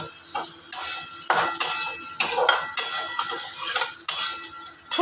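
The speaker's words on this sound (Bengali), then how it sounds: "খুব ভালোভাবে নাড়াচাড়া করব" Lentil curry being stirred in a pan: repeated scraping strokes of a spoon against metal, close and fairly loud, with a faint sizzle underneath and no voices.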